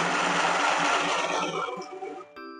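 A Flipkart mini sewing machine stitches cloth with a steady, loud mechanical whir close by, running continuously before it slows and stops near the end.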